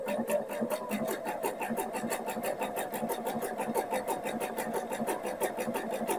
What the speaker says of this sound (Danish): Og så syr jeg nu knaphullet, som kommer til at ligge hen over indlægstråden.